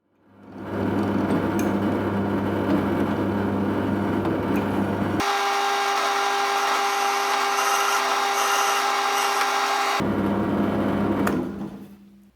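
A power drill with a twist bit whines steadily as it bores a hole in wood for a bench dog, its pitch shifting midway as the bit bites deeper, then easing back before stopping.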